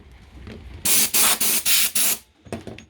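A Parkside PKO24B2 24-litre air compressor with hoses and attachments releases air in a series of five loud, close hissing bursts of roughly equal length, separated by brief gaps and framed by quieter handling noise.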